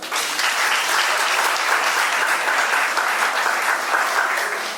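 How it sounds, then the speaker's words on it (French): Wedding guests applaud the couple at a civil ceremony in a town hall, a dense, steady wash of many hands clapping that holds at full strength throughout before easing slightly at the end. "Applaudissez pour eux."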